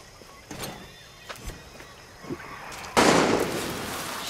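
Gunshots in the shooter Far Cry 6: a few faint distant pops early on, then a louder, noisy burst that lingers, with no talking.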